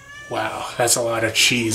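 Pet cat meowing insistently for attention, three or four drawn-out meows in quick succession, close and loud, while a person talks briefly over them in a kitchen setting.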